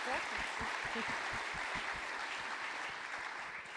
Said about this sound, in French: Je crois qu'on peut les remercier et puis les applaudir.